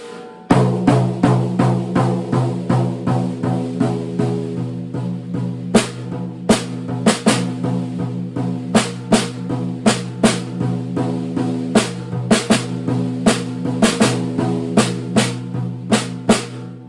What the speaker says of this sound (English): I play on the downbeat on the snare, And then I'm going to use my left hand only to play the eighth notes on the tom.